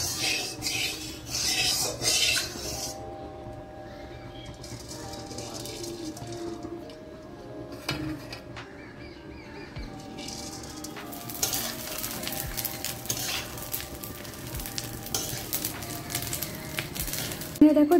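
Marinated rice for basanti polao sizzles gently in a pan over low heat while a utensil stirs and scrapes through it, with soft clinks against the pan. The frying grows louder and busier toward the end.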